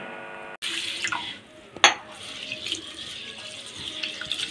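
Rice, parboiled rice, chana dal and fenugreek seeds are rinsed in water for crispy dosa batter, with running tap water and sloshing in a bowl, a sharp splash partway through, continuing steadily up close.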